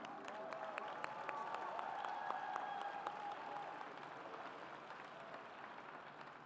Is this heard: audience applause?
yes